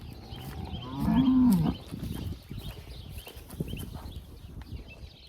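A cow in a herd of cattle kept out in the bush lets out one loud, drawn-out moo near the start, followed by quieter shuffling and scattered low farm sounds.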